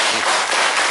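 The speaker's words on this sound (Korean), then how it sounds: "손뼉 세 번 시작" An audience at a book concert talk claps on cue, a loud burst of many hands crackling together for about a second, close and dense with no voices over it.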